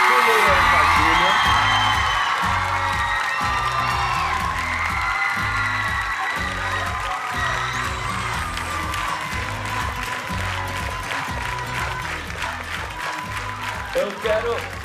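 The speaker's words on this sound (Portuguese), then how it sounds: "eu quero uma salva de palmas pro Lucas, pro Luan Padilha" A TV studio audience on a Brazilian Sunday variety show applauds and cheers loudly and steadily for young contestants, with whoops over the clapping and a thumping music beat pulsing underneath throughout.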